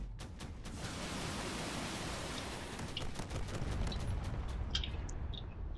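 Corvettes in a space battle video game fire steadily in a dense, roaring hiss of gunfire, with faint sharp shots and pops rising near the end and no voices.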